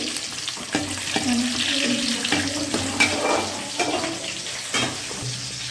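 Curry leaves frying in a pan, a steady crackling sizzle with scattered pops and clinks of stirring throughout, fairly close and with no voices.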